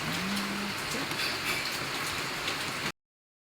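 Heavy rain falling in a steady, dense hiss of drops on surfaces for about three seconds, then cutting off to silence.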